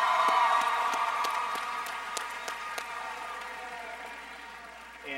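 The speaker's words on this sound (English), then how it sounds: "that wonderful round of applause" A graduation audience applauds a teacher: a broad, steady wash of clapping and crowd noise that slowly fades, with a few sharper individual claps standing out.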